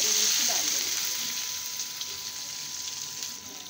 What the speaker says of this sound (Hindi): प्याज और हरी मिर्ची डालने के बाद इसे हिला देंगे और दो मिनट तक प्याज को लाल होने तक भूनने देंगे